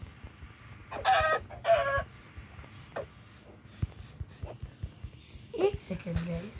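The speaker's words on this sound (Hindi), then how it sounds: "पहले मेरे को मुर्गी लेने दो।" Chickens in a video game cluck in short bursts, with one longer crowing-like call, while a person talks over them throughout.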